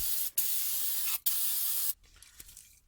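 Aerosol brake cleaner sprayed onto a car brake caliper during a front brake pad and rotor change, three loud, close hissing bursts with brief gaps, then quiet handling noises.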